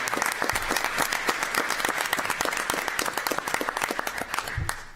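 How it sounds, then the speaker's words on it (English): Audience at a city council meeting applauding, a dense steady wash of many hands clapping close by for about five seconds, with a brief low thump near the end. "next up, we can applaud"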